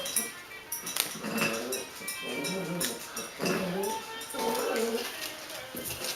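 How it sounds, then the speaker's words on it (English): Two dogs scrape and knock a food bowl around as they play, giving repeated close scraping and clinking with scattered dog noises, loud and continuous throughout. "The two dogs are playing with the food bowl. If you're wondering what that strange scraping noise is"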